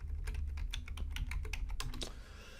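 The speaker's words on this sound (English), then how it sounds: "Boy, if I can type." Quick, uneven clicks of a computer keyboard as someone types search keywords into a browser, close by and fairly quiet, pausing briefly before a last few taps.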